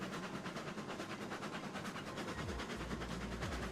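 A train rolls along rails in the Railroads Online video game, a steady, faint rumble with a low engine drone that deepens near the end.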